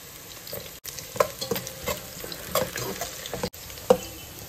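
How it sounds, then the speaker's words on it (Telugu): Sliced onions and green chilies frying in a pan for chicken biryani, a steady close sizzle with intermittent scraping stirs and a couple of brief dropouts, no talking. "ఈ ఉల్లిపాయ అండి కలర్ మారే వరకు, కొంచెం బ్రౌన్ కలర్ వచ్చే వరకు ఫ్రై చేసుకుందాం"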